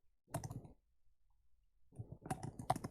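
Two short bursts of rapid clicking, like quick keystrokes on a keyboard, separated by a quiet pause; close and fairly soft.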